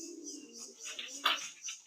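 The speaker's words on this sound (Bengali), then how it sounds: "এখানে অনেক কবুতর আছে" Pigeons cooing at a fancy pigeon farm loft, soft repeated coos near and far with a few brief chirps and a wing-flap burst, no talking.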